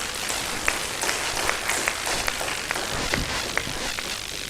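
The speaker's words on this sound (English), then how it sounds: "let us give ourselves a round of applause" Scattered applause from an audience at a university World Environment Day event, fairly quiet and uneven, with distinct individual claps standing out over a soft background of clapping.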